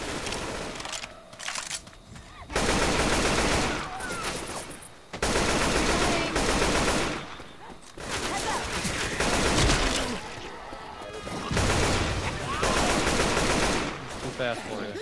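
Sustained gunfire in the zombie shooter Left 4 Dead 2, with long loud bursts of rapid automatic shots separated by brief pauses, repeating throughout at close range.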